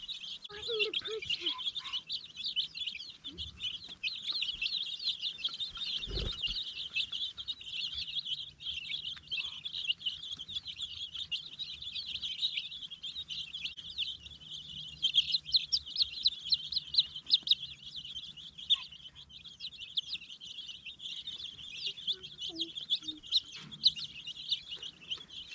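A brood of roughly 30 baby chicks chirps continuously under a heat lamp, a dense chorus of high peeping with occasional louder individual calls and a few faint knocks.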